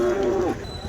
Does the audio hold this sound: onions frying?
no